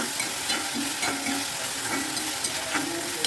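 Chopped ingredients sauté in a hot pan with chili powder, a steady oily sizzle broken by repeated scraping strokes of a spoon or spatula stirring the mix, close up with no talking.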